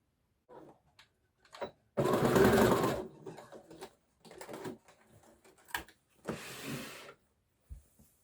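A sewing machine stitches the elastic waistband of a knit skirt in several separate runs, each a close, loud mechanical whir lasting about a second, with quiet gaps and small handling clicks between them.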